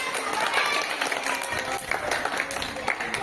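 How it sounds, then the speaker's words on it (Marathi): Schoolchildren in a class clap for themselves, a dense, steady burst of many small hands lasting a few seconds, close and fairly loud. "सगळ्यांनी स्वतःसाठी टाळ्या वाजवा."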